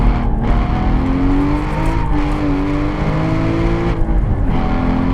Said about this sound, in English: here's some oversteer for you.